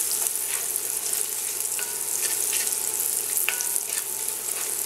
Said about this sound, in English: We're going to stir fry them a few seconds